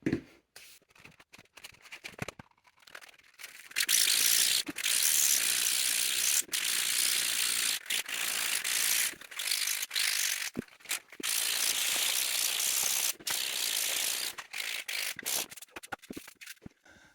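Rough 80-grit sandpaper rasps back and forth over a hard 3D-printed plastic part in repeated strokes, with brief pauses between bursts, close and fairly quiet.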